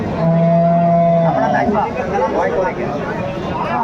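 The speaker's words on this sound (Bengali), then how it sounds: "গাভী বাছুর আমরা দেখছিলাম এখানে" A cow with a calf lets out a loud, long moo up close at the Aftabganj cattle market in Dinajpur, followed by crowd chatter and voices in a busy outdoor setting.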